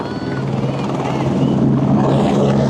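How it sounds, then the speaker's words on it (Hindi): A helicopter at the Kedarnath helipad makes a loud, continuous rotor and turbine roar close by, with a voice speaking faintly under the noise. "इस वाले हेलीकॉप्टर में हम लोग आए थे।"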